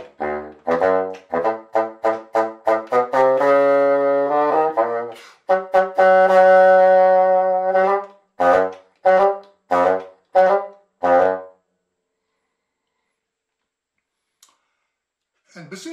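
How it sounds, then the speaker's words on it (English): A bassoon plays the grandfather theme from Prokofiev's Peter and the Wolf: a series of short staccato notes and a few sustained tones, solo, close and clear, then fading into near silence. "You may have heard of this excerpt by Prokofiev from his work, Peter and the Wolf, where bassoon depicts the wise grandfather."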